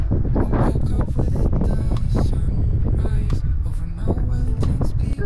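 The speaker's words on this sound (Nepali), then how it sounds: "हावा हावा चलिरहेको हल्का" Steady wind blowing at a lighthouse on the Hobart coast in Tasmania, a constant roar buffeting the microphone with rumble throughout, with waves nearby and occasional faint voices underneath.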